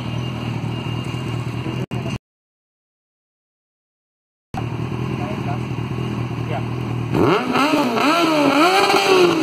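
A Kawasaki Ninja Z800 motorcycle idles and revs, its exhaust a steady rumbling drone that breaks off into a short silence, then resumes and swells as a voice talks over it.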